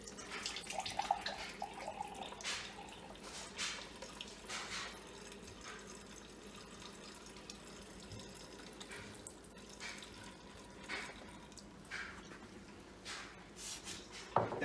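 Kangen water at pH 9.5 pours steadily into a cup for a tea test, a soft continuous trickle and splash, fairly quiet and close, with no talking.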